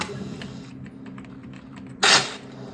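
Keyboard and mouse clicks on an eMac computer, a light run of irregular taps, with one louder burst of noise near the end.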